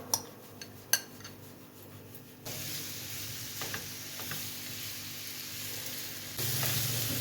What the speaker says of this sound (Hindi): अब इसमें डाल देंगे ये चिकन जो हमने मैरिनेशन करके रखा हुआ है